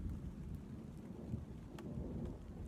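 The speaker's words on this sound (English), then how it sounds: "All right, that thunder's rolling in." Low, continuous rumble of thunder rolling through a woodland storm, with steady rain and a faint wash of wind filling the background; no voices.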